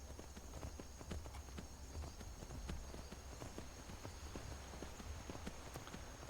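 Hoofbeats of a stolen horse galloping in Skyrim, a steady quick clip-clop rhythm carrying on over a constant low rumble, with no voices.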